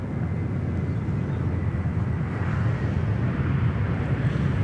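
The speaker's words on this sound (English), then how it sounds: "very fitting that we would have Air New Zealand just bounce it in on runway 34 right" Air New Zealand airliner touching down on runway 34 right at Sydney Airport, heard from the boat ramp as a loud, steady low roar of engines and rushing air across the whole stretch, with no speech.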